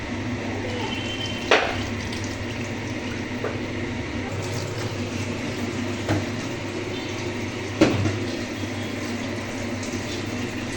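Water is poured into a pan of meat while khichuri cooks, a steady running liquid hiss with a few soft clunks, nearby and moderately loud, with no talking.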